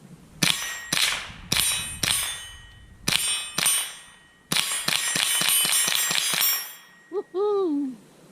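Repeated rifle shots from a Smith & Wesson M&P 15-22, each followed by a ringing metallic clang as the rounds strike a small far steel silhouette target, about ten sharp reports in an uneven rhythm, then a short whoop.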